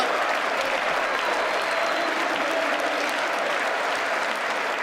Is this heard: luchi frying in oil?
no